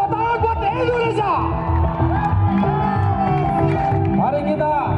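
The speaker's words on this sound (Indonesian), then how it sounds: "Tepuk tangan buat Indonesia." Crowd cheering and whooping for Indonesia at an outdoor laser show at Monas in Jakarta, a loud, dense roar of voices and shouts with a raised voice carrying over it.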